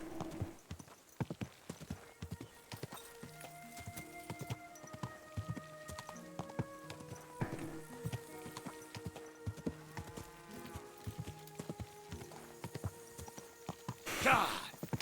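Horse hooves clip-clop steadily at a walking pace in Kingdom Come Deliverance II, a close, even rhythm of hoof beats over melodic background music.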